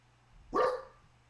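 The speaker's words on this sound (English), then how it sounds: "The dogs are barking." A single sharp dog bark rings out close by, then fades into a quiet background.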